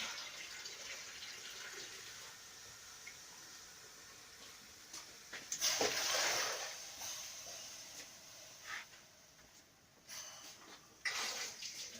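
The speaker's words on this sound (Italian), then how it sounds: "Ora ci deve aggiungere l'acqua." Water pours into a pot of quince pieces for quince jam on a gas stove, a hissing splash that swells for a couple of seconds, returns briefly later, and sits over quiet room noise.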